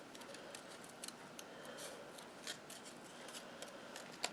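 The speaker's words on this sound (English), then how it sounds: "I'm just roughly cutting these out." Scissors snip steadily through paper card pieces in a rough, unfussy cutting pass, a quiet run of close crisp cuts and rasps with no talking.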